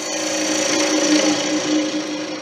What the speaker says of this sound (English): I'm just going to start hollowing this out